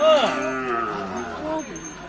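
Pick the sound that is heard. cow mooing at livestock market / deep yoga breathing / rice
cow mooing at livestock market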